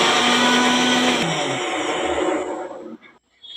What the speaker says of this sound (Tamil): 2 தக்காளி நறுக்கி லைட்டாக மட்டும் நறுக்கிட்டு வெள்ளைப்பூடு, பட்டை வெத்தெல்லாம் போட்டு கொஞ்சம் வெந்ததும் நல்லா மிக்சியில் அரைச்சிடலாம்